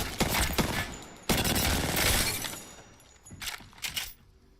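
Rapid bursts of R99 submachine gun fire in Apex Legends, loud and close, with dense automatic volleys for the first couple of seconds and shorter separate bursts toward the end.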